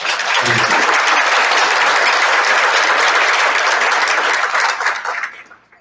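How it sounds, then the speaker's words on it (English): An awards ceremony audience honoring teachers breaks into sustained, dense applause that stays loud and even for about five seconds, then quickly dies away at the end. "So if we could give everyone in this room a round of applause."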